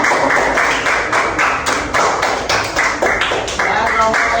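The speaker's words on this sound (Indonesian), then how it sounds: "kasih tepuk tangan ya temannya ya" Classmates applaud a group in a classroom, a loud, dense round of many hands clapping rapidly and unevenly, continuing steadily for several seconds.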